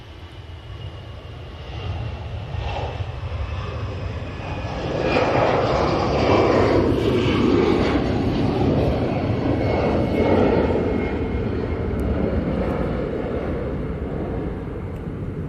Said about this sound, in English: There's an EasyJet coming out in there, I can hear it.